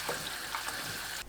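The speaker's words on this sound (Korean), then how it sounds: "시간이 지나면 흐르는 물로 두세 번 헹구고 체에 받쳐 물기 뺍니다" Steady running water splashing from a tap as vegetables are rinsed, a continuous broadband wash with small spatters, close by, ending abruptly.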